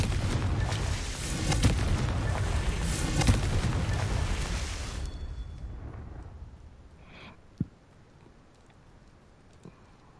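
Confringo fire spell in the video game Hogwarts Legacy on PS5: a loud, dense blast and roaring burst for several seconds that fades out, followed by a quieter tail with a few faint pops and thuds.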